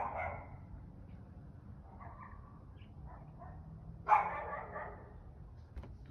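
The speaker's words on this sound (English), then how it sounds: "the barking." A neglected neighborhood dog barks in daylight, a few short barks that stand out at the start and again partway through over a steady low background hum, sounding moderately distant.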